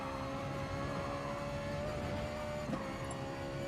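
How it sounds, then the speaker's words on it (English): Steady, thin gearbox whine from a race car in GT Sport, holding one pitch over a low engine drone throughout, with a brief bump near the end. "I can hear the whine on the gearbox more."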